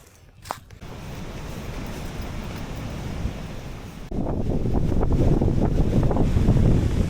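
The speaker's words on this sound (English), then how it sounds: "This wind just doesn't want to let up here." Strong wind buffets a campsite at West Branch State Park as a steady rushing roar that surges louder halfway through, with heavy low rumble on the microphone.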